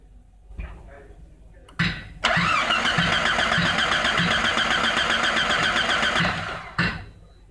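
A Jeep engine cranks without catching: a brief click and short starter burst, then a long, loud, steady mechanical whirring churn of about four seconds that stops abruptly, followed by one more short burst, all close up.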